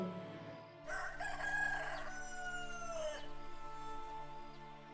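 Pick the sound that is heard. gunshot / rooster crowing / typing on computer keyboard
rooster crowing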